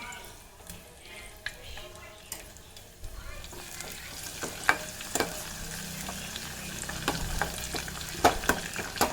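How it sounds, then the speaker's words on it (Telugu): Urad dal, chana dal, mustard seeds, curry leaves and dried chilies sizzle in hot oil for a tempering, with a soft continuous frying hiss and scattered sharp pops and crackles that grow busier toward the end. "మినపప్పు, శనగపప్పు, కొన్ని అయితే ఆవాలు వేసాను. కొంచెం కరివేపాకు తీసుకుని 2 అయితే ఎండుమిరపకాయలు తుంచేస్తున్నానండి."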